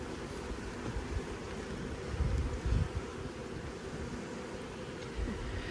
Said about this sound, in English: This is the way a hive of bees is supposed to act.